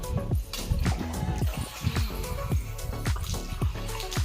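A young girl plays with water outdoors, splashing it in a steady run of wet plops and drips that land close by at an irregular, fairly quick rhythm.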